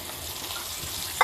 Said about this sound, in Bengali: এবার আমি দিয়ে দেবো শাক।